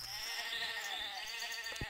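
A sheep bleats in the survival video game Stranded 2, a sustained wavering cry over steady game ambience, ending with a soft thump.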